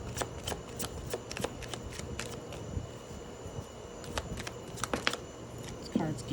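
Tarot cards being shuffled by hand, a run of crisp riffling snaps and flutters spread through the whole stretch, fairly close, with faint low background noise.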